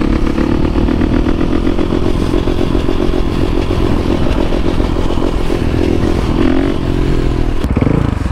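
A motorcycle engine runs loud and close in a fast-food drive-thru during wheelies, a sustained buzzing roar with small shifts in pitch and some clatter, heard without talk.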